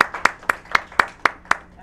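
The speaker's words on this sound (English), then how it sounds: "A round of applause, please." A single person clapping at an end-of-year show, about seven evenly spaced, close and crisp handclaps with no talk over them.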